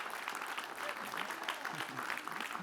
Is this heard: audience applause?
yes